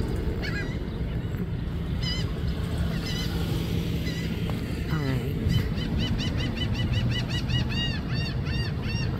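Birds call outdoors with repeated goose-like honks and chirps, growing busier and more frequent toward the end over steady background noise.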